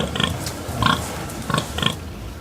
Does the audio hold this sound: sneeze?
no